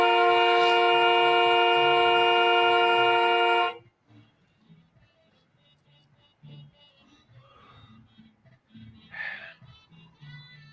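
A loud, sustained car horn blares steadily for several seconds and then cuts off abruptly, leaving quiet voices talking.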